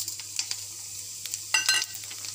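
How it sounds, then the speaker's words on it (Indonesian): Spices hit hot oil for a sauté, giving a steady faint sizzle with brief bursts of crackling and spattering, and no voices. "Minyak dah panas dah. Okey kawan-kawan, sekarang kita menumis ah. Kita masukkan bahan tumis kita."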